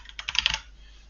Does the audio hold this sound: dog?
no